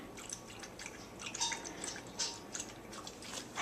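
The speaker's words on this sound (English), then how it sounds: "They already ate, so I'm just refilling their can of water." Water is refilled into a dogs' water can, heard as soft, close dripping and splashing trickles against a quiet indoor background, with no voices.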